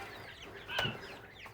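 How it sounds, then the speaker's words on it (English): Chickens and quail clucking softly in a coop, with a brief louder squawk in the middle over a steady background hum. "But we have chickens and quail in here that I hatched."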